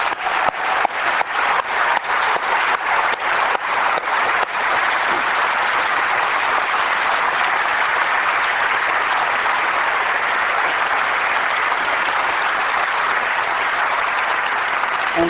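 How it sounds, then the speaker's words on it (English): A large audience applauds at a 1999 Apple product event, with dense, steady clapping that starts with a few distinct beats and then stays full and loud for about fifteen seconds, with no voices over it. "I also would like to give a round of applause to everybody at Apple who's been working on these 4 products"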